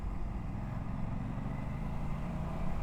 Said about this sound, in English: Engine braking sounds and feels real good here.